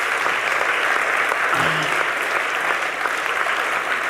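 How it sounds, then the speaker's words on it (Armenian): Steady applause from a game show studio audience for a contestant, a dense, even wash of clapping that fills the whole stretch. "Եկեք մեկ անգամ եւս ծափարենք Արմենին։"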